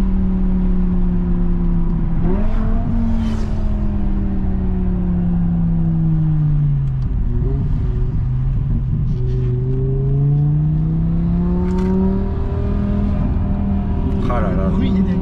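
A BMW M6 with a 507 hp V10 engine revs loudly and continuously, rising and falling in smooth sweeps of pitch over a steady rumble, while people talk over it throughout.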